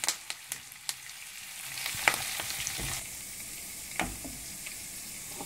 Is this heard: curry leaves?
yes